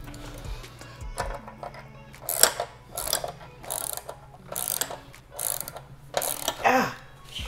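Ratchet wrench tightening a bolt under the hood of a VW MK6 GTI during a cold air intake install, close repeated bursts of rapid clicking in a steady rhythm, about seven strokes, with no talk over it.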